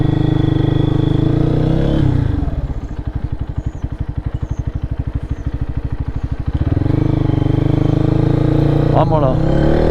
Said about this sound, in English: I'm gonna kind of take some back roads here, shut my visor, and kind of warm the bike up